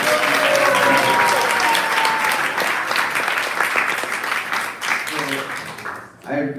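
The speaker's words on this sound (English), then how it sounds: "Let's give a round of applause for her for the service." Audience applause fills a room after a call to honour a woman for her service at a devotional gathering; loud, sustained clapping from many hands that thins and fades near the end, with a voice faintly mixed in.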